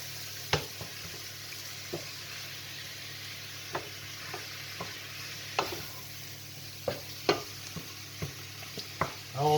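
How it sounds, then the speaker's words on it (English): Ground spices and salt sizzle softly in a pan with a steady low fry, punctuated by a dozen or so sharp scrapes and taps of stirring at irregular intervals, with no talk. "And now I'll put in the ground spices, including the salt. Give that a nice stir."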